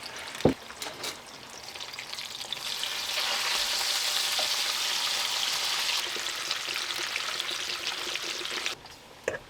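Bacon sizzles and crackles steadily in a hot pan alongside pasta being cooked, a dense continuous frying hiss that swells in the middle and fades near the end, with a few clinks and no voices.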